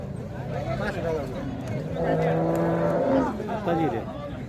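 Water buffalo at a livestock market in Sangola low, drawn-out lowing calls, one mid-clip and another near the end, rising over steady crowd chatter and nearby talk.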